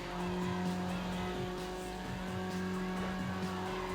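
A fast car races in Need for Speed Underground, its steady engine drone holding a high, even pitch with faint tire noise, loud and continuous, with no voices.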